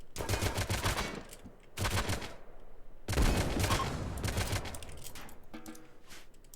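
Turrets fire in the video game RimWorld, with loud rapid bursts of automatic gunfire in several long volleys separated by short gaps, close and dense, with no talking over them.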